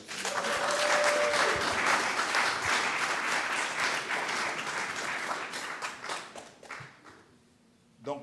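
A church congregation at a wedding ceremony breaks into sustained, dense applause that fills the room, then thins into scattered claps and fades toward quiet, with a brief voice at the end.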